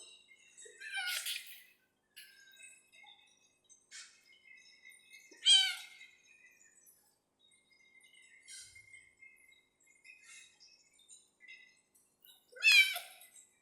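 Cats meow in a quiet room: three clearer, rising meows spaced several seconds apart, with fainter mews and chirps in between, all soft and fairly close.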